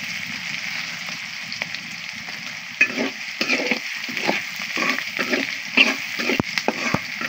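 Chopped onion sizzles in hot oil in a pan while a spoon scrapes and stirs it in irregular strokes, the frying hiss steady and close with no one talking.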